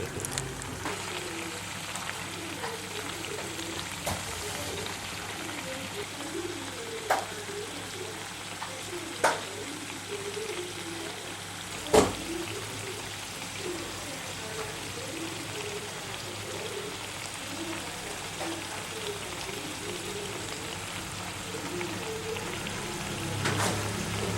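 Soya chunks fry in a pan at home, giving a faint, steady sizzle that runs the whole time, broken by a few sharp clicks and taps.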